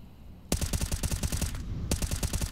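Rapid automatic rifle bursts in a CS:GO pro match on the Vertigo map, fired through smoke; loud, close rattling volleys with a short pause before a second burst.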